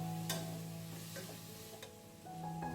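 Cauliflower, carrot, potato and beans being stirred in a pan for a South Indian dish, a soft scraping and light sizzle with a few sharper clicks of the spoon against the pan, steady and close.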